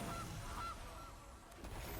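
A goose honk from the Gilded Goose card in Magic: The Gathering Arena, a few faint nasal game-sound honks in quick succession over a quiet background.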